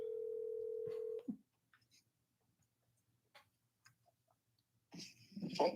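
A phone call's steady dial tone sounds clearly for about a second, then stops, leaving near silence broken by faint ticks before brief talk and noise come in at the end.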